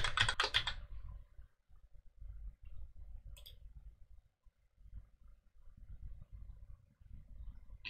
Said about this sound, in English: So let's see if our keyboard works.